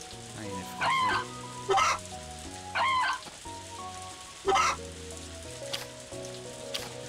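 Chickens in the farming video game Story of Seasons: A Wonderful Life cluck in several short bursts, spaced a second or so apart, over soft background game music.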